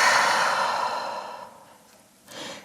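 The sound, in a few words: deep breath during yoga exercise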